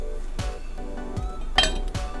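Metal lid set down onto a full pot of Korean jjigae stew, giving a couple of close clinks and clatters, the loudest near the middle, with no talking.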